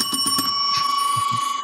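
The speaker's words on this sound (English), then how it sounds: "Yes, ring that bell" A bell rings out in bright, sustained strokes, several quick strikes early then a long ringing tone that lingers and slowly fades, fairly loud with low thumps beneath.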